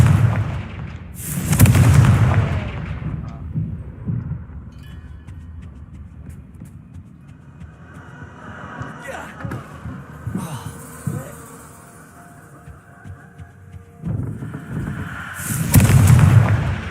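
Confringo fire-spell blasts in a Harry Potter video game, two loud booming bursts, one near the start and one near the end, with quieter game ambience rumbling between them.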